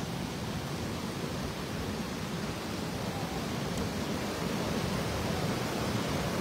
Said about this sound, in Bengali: হ্যাঁ নদীর আওয়াজটা শুনতে পাচ্ছ